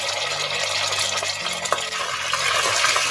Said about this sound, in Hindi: सबसे पहले प्याज को हल्का ब्राउन कर लूंगी मैं। प्याज ब्राउन होने पे अब अदरक लहसुन का पेस्ट